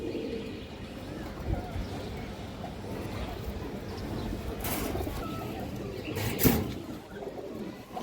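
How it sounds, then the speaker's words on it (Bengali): A pair of green-necked high-flyer pigeons coos softly amid a busy background, with a few brief knocks and rustles near the end. "এই যে দেখেন কবুতরের জোড়াটা দেখেন দর্শক"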